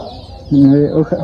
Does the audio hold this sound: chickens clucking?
yes